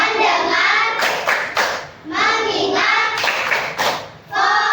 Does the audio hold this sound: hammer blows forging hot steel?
no